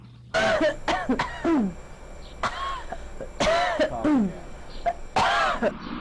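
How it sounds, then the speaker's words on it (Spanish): Several sharp, close coughs and throat-clearing bursts come in quick clusters with short pauses between them, loud and alone. "así es como se ve cuando toses"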